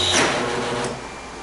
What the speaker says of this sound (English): the brush runs into something that it shouldn't